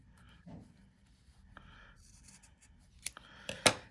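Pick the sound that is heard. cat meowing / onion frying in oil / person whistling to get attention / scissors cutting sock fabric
scissors cutting sock fabric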